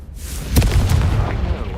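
A Confringo spell blast in Hogwarts Legacy goes off as one loud, booming explosion, then a rumbling, crackling tail that lingers for over a second.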